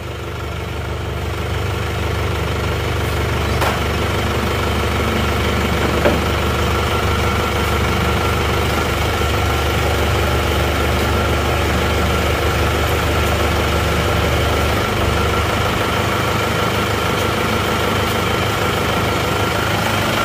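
A diesel engine idling with a smoking exhaust, a steady loud low rumble with a faint knocking texture, continuous and close throughout.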